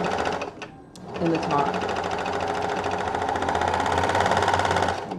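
A straight stitch sewing machine runs through cotton jersey knit fabric in a steady, fast mechanical whirring chatter that starts after a brief pause and continues close and loud, with a short bit of speech at the start.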